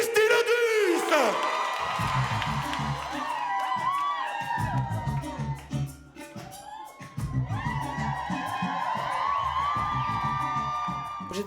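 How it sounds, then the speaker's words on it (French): A cabaret crowd roars for a performer, with loud whoops, shouts and cheering swelling in waves over a dense wash of noise, close and sustained for several seconds. "Merci de faire un tonnerre d'applaudissements pour Misty Lodus."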